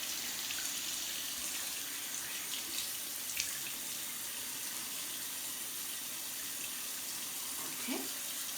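Lukewarm tap water runs steadily from a faucet into a sink for face washing, a soft, even hiss that lasts throughout, with a few faint splashes and clinks.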